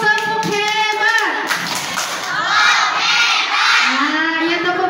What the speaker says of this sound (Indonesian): Nah itu tepuk hebat.